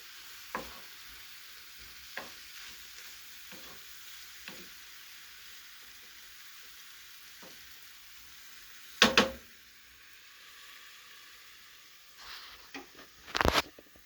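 Mushrooms and onions frying in a pan give a steady soft sizzle, broken by a few light scrapes from stirring and two louder clattering bursts partway through and near the end.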